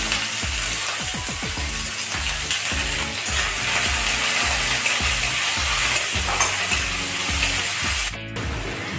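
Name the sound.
chopped onion frying in hot mustard oil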